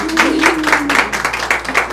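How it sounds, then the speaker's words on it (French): A small crowd applauding in a ramen restaurant at a ramen-eating contest, rhythmic clapping in short regular pulses close by, with a low steady hum under it. "Vous pouvez les applaudir."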